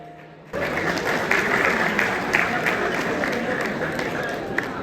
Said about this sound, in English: These are international selected candidates. Please, a big round of applause.